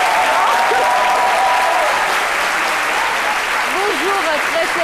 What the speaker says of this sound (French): Les acclamations du groupe scolaire Saint-Adjoa